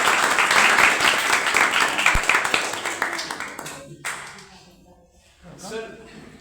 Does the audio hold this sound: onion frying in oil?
no